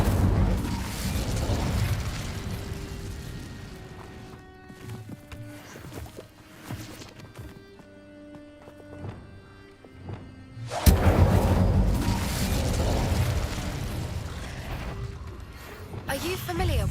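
In the Hogwarts Legacy video game, an Incendio fire spell goes off as a sudden booming blast that swells into a roaring burst, following a quieter stretch of ambient game sound.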